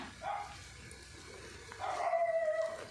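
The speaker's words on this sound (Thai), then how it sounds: "มีเสียงหมาเห่า" A dog barks and howls in the distance, a couple of drawn-out yelps rising over faint background noise.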